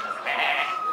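A goat bleats with a sustained, wavering nasal cry that swells and holds, loud and close against a quiet background.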